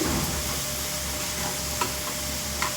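Fish curry masala with salt and chili powder being stirred in a hot pan, a steady close sizzle with occasional scraping clicks of the spoon, no voices.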